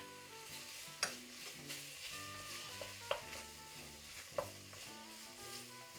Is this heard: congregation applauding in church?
no